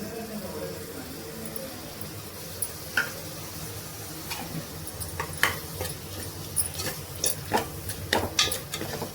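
Thick curd being stirred into egg biryani masala in a pot, giving soft wet squishing scrapes with scattered clicks of the spoon against the pot, mixed with a faint sizzle at moderate closeness.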